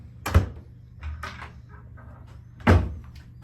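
A small mini fridge door in a hotel room opens and shuts, two sharp close knocks a couple of seconds apart with faint rattling between.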